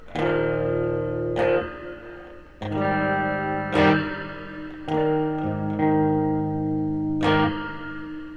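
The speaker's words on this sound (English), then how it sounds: "it does sound like spring reverb" Guitar chords ring out through the spring setting of a Klowra Limbo reverb pedal, splashy, each strum blooming and decaying with a metallic wash, repeated in a steady series of hits.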